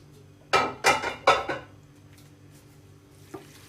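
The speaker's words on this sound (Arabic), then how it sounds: "هنحط لحمتنا هنا كده، نحطها بالبصل بتاعها بكله" Marinated meat and onions drop into a tagine dish with a handful of distinct clanks and knocks in quick succession, followed by quiet and one faint clink near the end.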